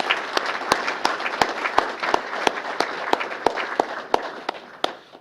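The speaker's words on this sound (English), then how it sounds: "let's have a round of applause for all those individuals" An audience applauds award recipients at a city employee recognition ceremony for sanitation and fleet services staff, a steady wash of clapping punctuated by sharp individual claps standing out near the microphone throughout.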